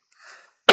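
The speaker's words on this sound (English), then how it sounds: "I'm coughing a lot." A single sharp, close cough bursts out at the end of a short stretch of quiet breathy sound, as someone with a persistent cough pauses in the middle of a software tutorial.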